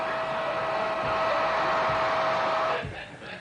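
Hair dryer running loudly with a steady whooshing roar and a faint whine, close by, then cutting off abruptly near the end.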